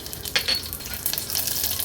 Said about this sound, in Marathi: तेल पण छान गरम झालं आहे फोडणीला कडीपत्त्याची पानं घालूया नंतर राई